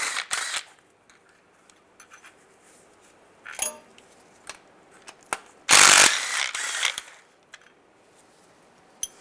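Sharp ratchet clicks from a 10mm socket wrench loosening bolts on a 2007-2013 Chevy Silverado engine, quick bursts of pawl ticking separated by pauses, one loud dense flurry near the end, close and dry.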